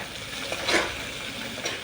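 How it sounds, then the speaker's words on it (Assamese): Turmeric-seasoned food frying in a pan for a Tenga-style fish dish, a soft steady sizzle with a brief scrape of stirring near the middle, close and fairly quiet, no voices. "ভালকৈ ভাজি লৈ আছোঁ"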